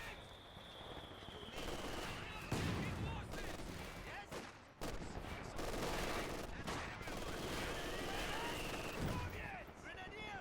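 Mortar and small-arms fire in a Company of Heroes 2 battle on the Across the Rhine map, with repeated blasts and crackling gunfire layered over steady combat noise while a voice talks.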